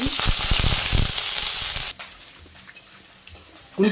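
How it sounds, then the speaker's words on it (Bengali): Papaya frying with cumin, onion and green chili in a village kitchen, giving a loud, hissing sizzle for about two seconds that then cuts off abruptly, leaving faint background clatter. "পেঁপে ভাজি তুলে দিয়ে দিব সামান্য একটু জিরে পেঁয়াজ কাঁচামরিচ দিয়ে"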